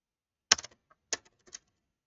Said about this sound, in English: let me type that name here